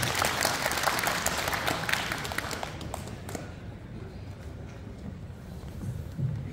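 An audience at a Pocheon table tennis open tournament ceremony applauds to welcome the sports council chairman, dense clapping that thins out midway and tapers to scattered claps.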